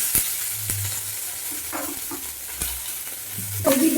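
Green chilli and onion hit hot oil already holding cumin and curry leaves, giving a continuous loud sizzle punctuated by clinks and scrapes of stirring.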